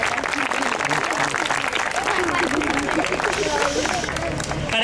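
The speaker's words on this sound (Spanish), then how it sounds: "a todos un aplauso" An audience at a school and community event in Los Quirquinchos applauds, producing a dense, steady wash of clapping with a murmur of voices underneath.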